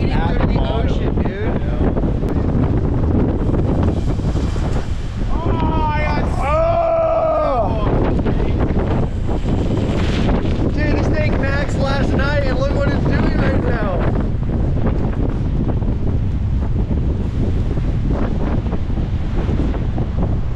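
Hurricane Nicole's wind roars at Satellite Beach, Florida, as a loud, constant buffeting rush across the microphone with ocean surf beneath it, and excited voices shout and talk over it now and then.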